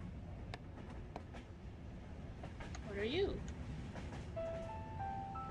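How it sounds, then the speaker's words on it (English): Train ride in the video game Yume Nikki: a steady, soft rumbling carriage hum runs throughout, with a brief tonal swoop and faint chimes over it, and a voice speaks briefly. "I guess I'm going back on the train"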